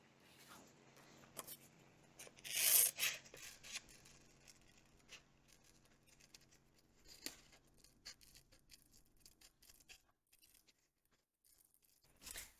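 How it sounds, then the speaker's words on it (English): Scissors cutting out colored paper templates for a paper bag owl craft, quiet intermittent snips and paper rustles with one louder burst of rubbing and long near-silent gaps. "then you can take your scissors and cut them out."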